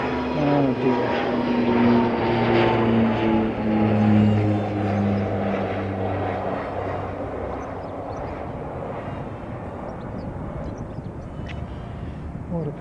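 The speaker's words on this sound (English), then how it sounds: "Mr. Origin Air's takeoff" Propeller aircraft from a small regional airline taking off at Christchurch airport, a steady loud droning engine roar with tonal hum that slowly fades as it climbs away, with a voice talking over it briefly.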